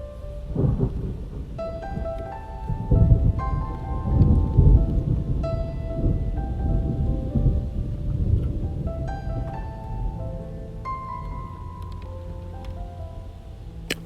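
Thunderstorm heard from inside a VW camper van: steady rain drumming on the roof with rolling thunder swelling several times, loud and close, while faint tonal musical notes sit underneath.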